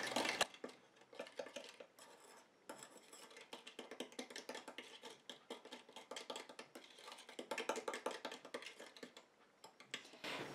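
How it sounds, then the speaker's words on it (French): Cosmetic cream emulsion stirred in a bowl, steady rapid scraping and clicking of a utensil against the bowl throughout, close and fairly quiet, no talking. "Donc je mélange comme ça jusqu'à ce que mon émulsion refroidisse"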